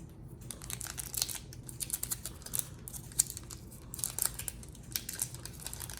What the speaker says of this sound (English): Good thing I still have the old scissors here.